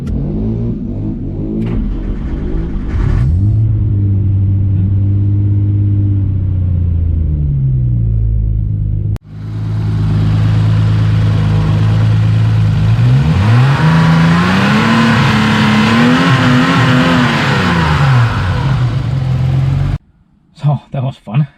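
A Ford XR4i fitted with a Cosworth V6 and a retrofitted variable intake system revs up and down repeatedly, its loud, close engine note rising and falling before cutting off near the end, then a few short bursts.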